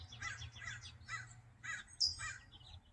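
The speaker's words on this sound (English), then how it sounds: "There's a crow in the background." Crow cawing in the background outdoors, several hoarse calls spaced through the clip. A brief higher bird note cuts in near the end over a low ambient rumble.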